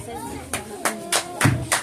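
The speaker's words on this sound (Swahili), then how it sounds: "Makofi ya Mungu" An audience at a daycare graduation in Dar es Salaam claps in unison, about five sharp, rhythmic claps spaced roughly a third of a second apart, with voices murmuring underneath.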